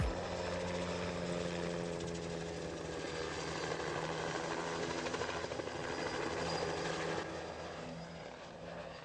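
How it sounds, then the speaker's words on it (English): A helicopter harvesting trees drones steadily and loudly throughout, its rotor and engine forming a continuous, pulsing roar with no talk. "This pilot's harvesting trees with a helicopter."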